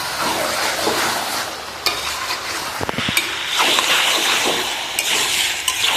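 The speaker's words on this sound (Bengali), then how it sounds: "একটু নুন দিয়ে দেবো, সঙ্গে কাঁচা লঙ্কা ভালো করে নাড়িয়ে নেবেন।" Chicken pieces with salt and green chilli are stirred in a hot pan for a kacchi chicken kosha, giving a steady loud sizzle broken by spatula scrapes and a few sharp clinks, with no voices.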